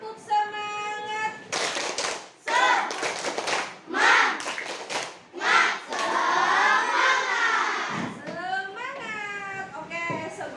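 Classroom of pupils performing a rhythmic clapping chant led by their teacher, bursts of sharp claps alternating with children's chanted voices, close and energetic across the room.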